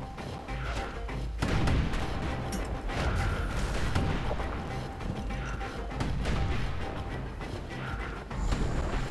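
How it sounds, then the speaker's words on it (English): Emergency defenses in the video game Bastion fire a sustained barrage of heavy, booming shots with crashing impacts, loud and dense over a rumbling backdrop for several seconds. "Good news is the emergency defenses still work. Bad news is they're aiming for the kid."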